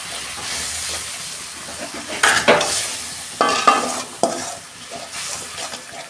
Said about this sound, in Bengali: মশলাটাকে আমি ভালো করে আর 2 মিনিট কষাবো।